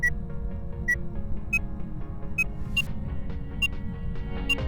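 A tier 3 EMF reader in Phasmophobia chirps at levels 2 to 4, giving a steady string of short, evenly spaced electronic beeps over a low, muffled rumble.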